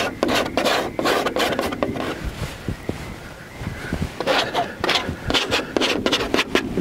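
A palette knife scrapes thick impasto oil paint on canvas outdoors, laying in shadow undertones of a river gum landscape: a run of close, light rasping strokes with brief pauses, no talk.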